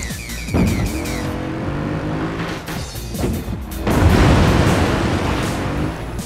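Video game rally car: loud engine roar with tires squealing through a drift, the screech swelling and holding over continuous motor noise.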